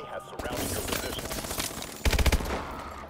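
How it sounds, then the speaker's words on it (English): Four-round burst SMG fire in Call of Duty Advanced Warfare, a quick tight burst of sharp shots near the end, following a stretch of game noise and gunfire at moderate level. "I think this might be that SMG that's like four round burst or whatever."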